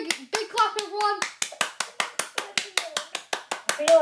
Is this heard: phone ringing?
no